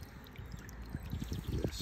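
Water flowing through a hydraulic model of a pond weir and fish pass, a close, continuous pouring and trickling wash that grows slightly louder toward the end.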